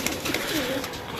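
Domestic pigeons kept for sale, including young and adult birds, coo softly at close range in a short burst of low, rolling calls over a faint background hum.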